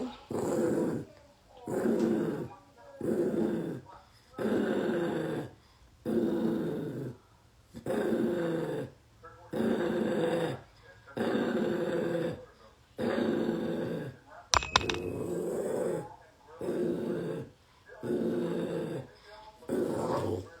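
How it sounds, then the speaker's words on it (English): A dog gives long, deep growls in a steady rhythm of about a dozen pulses separated by short pauses, close and loud, with a brief sharp noise near the middle. "He growls at me, but he never bites me"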